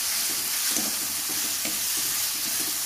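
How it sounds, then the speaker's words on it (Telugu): Ginger garlic paste fries in hot oil for a fish curry, giving a steady close sizzle with soft stirring scrapes and small bursts throughout, with no voices. "ఇలా అల్లం వెల్లుల్లి పేస్ట్ వేసుకొని దాన్ని కూడా పచ్చివాసన పోయేంత వరకు వేపాలి బాగా"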